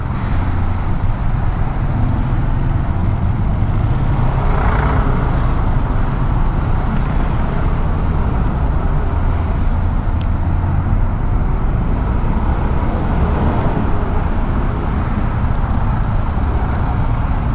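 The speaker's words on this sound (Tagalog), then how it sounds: "Wow, traffic uli." Steady road traffic in Batangas, with a continuous low rumble of cars, trucks and buses and an occasional air brake hiss rising over the engine drone.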